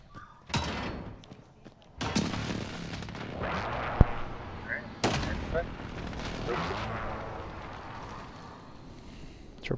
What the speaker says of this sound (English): Enemy precision airstrike. Take cover.